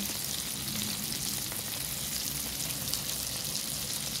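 Chicken pieces sauté in fried garlic in a hot pan, giving a steady, dense sizzle and crackle of frying oil that continues without pause at moderate loudness.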